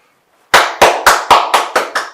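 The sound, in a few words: hands clapping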